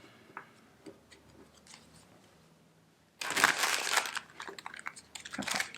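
Tarot cards are handled and shuffled close by, soft riffling taps at first, then a loud burst of rapid crisp card flutter.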